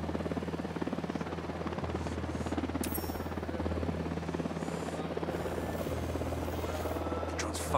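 Helicopter rotor thudding steadily and loudly throughout a Ghost Recon Wildlands game session, a continuous low whirring drone with rapid chopping pulses and no break.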